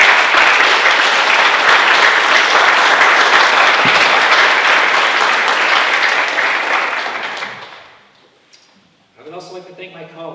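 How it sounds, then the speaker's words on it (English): Audience at a middle school end-of-year ceremony gives a sustained round of loud applause that fades out, after which a speaker's voice resumes near the end. "With a round of applause."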